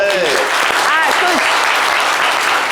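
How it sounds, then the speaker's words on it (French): Studio audience applause for a participant on a live gospel broadcast, a short, loud, even wash of clapping with bright vocal whoops and calls rising over it. "Venez là, il veut participer, on va l'applaudir très fort."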